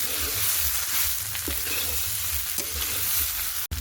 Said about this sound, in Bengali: এর মধ্যে দিয়ে দেবো আগে থেকে ভেজে রাখা আলু, দিয়ে একটু নাড়াচাড়া করে নেব